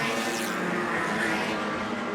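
A bright blue Lotus Cortina and other race cars roar past at full speed on a circuit, a dense, steady engine wash that stays loud and unbroken throughout.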